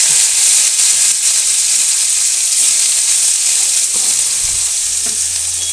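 Bitter gourd pieces frying in hot oil, a loud, bright, continuous sizzle heard close up with faint stirring sounds near the end and no voices.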